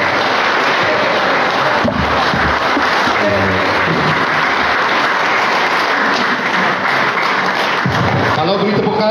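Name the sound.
audience applause for the president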